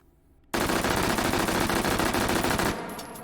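An H&K MP5 with a muzzle brake fires a loud, close full-auto burst in the VR shooter H3VR, a fast steady string of shots for about two seconds, then a fading tail.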